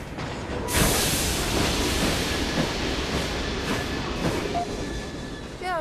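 A train in Assassin's Creed Syndicate runs steadily with a broad, continuous rumble and hiss, staying loud and even throughout, with faint clacking and a brief squeal near the end.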